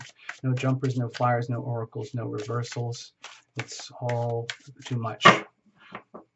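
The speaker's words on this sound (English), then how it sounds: "and now we're shuffling again." Tarot cards shuffled by hand, making a soft, repeated riffling and flicking close by that runs beneath steady talking.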